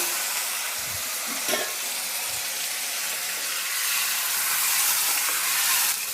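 Boiled bottle gourd tipped into hot oil with garlic sets off a steady, loud, close sizzle that swells slightly, broken by a few light clatters of utensils.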